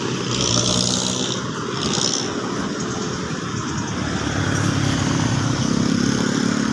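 Jeepneys passing along a road, a continuous loud engine roar with passing swells and broadband traffic rush, close by and without a break.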